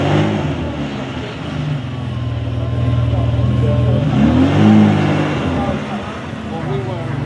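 Close, loud revving from a Ferrari engine at a Ferrari owners' show, a steady throaty drone swelling in the middle and easing off, with the exhaust reportedly throwing sparks.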